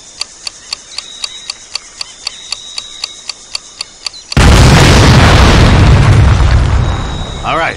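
Grenade explosion in the World War II shooter Medal of Honor: Pacific Assault, a massive loud blast that roars and slowly fades, preceded by a rapid run of regular clicks.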